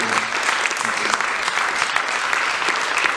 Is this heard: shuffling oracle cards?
no